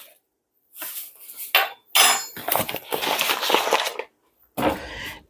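Three tablespoons of sugar are scooped and dropped in for feeding a ginger bug, giving close metallic spoon scrapes and clinks in short bursts separated by silence.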